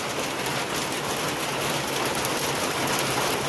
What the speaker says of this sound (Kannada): ನೋಡಿ ಮಳೆ ಬರ್ತಾ ಉಂಟು